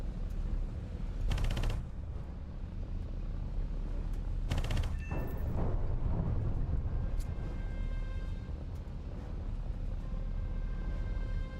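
Aircraft guns in the combat video game War Thunder, two sharp rattling bursts of rapid fire a few seconds apart over a steady engine drone, followed by lingering rumbles.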